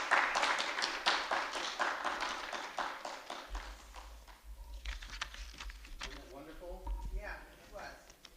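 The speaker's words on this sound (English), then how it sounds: "Let's give her another round of applause." Applause from a townhall audience at a trauma-impact gathering: dense, steady clapping for the first few seconds, then thinning as a voice begins talking over the tail end.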